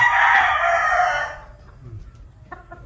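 A Kelso gamecock rooster crows one long, loud, close cock-a-doodle-doo that trails off into quiet farmyard background with a few faint clucks.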